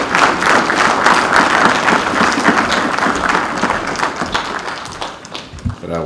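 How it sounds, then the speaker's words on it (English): Members of the Pan African Parliament give His Excellency Thabo Mbeki another round of applause in the chamber, a thick, steady wave of many hands clapping, with a few thumps, thinning near the end as a voice returns. "please give another round of applause to His Excellency"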